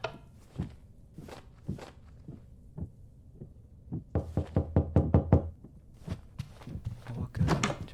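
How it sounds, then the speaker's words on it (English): Knocking on a front door comes in a few sparse single raps, then a fast cluster of loud knocks and another burst near the end, close and sharp with no voices. "quickly stopped by hearing a knock on my door"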